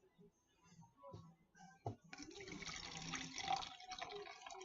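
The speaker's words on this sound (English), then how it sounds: "let's pour our first solution up to the 2 line" Iodine clock reaction solution poured into a mason jar up to a marked line: a quiet, steady liquid trickle and splash that builds after a faint knock, close by and fairly soft.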